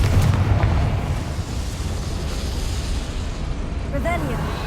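Explosive Confringo spell blasts in Hogwarts Legacy gameplay: a loud, continuous rumbling roar of explosions filling the clip, with a brief voice heard near the end.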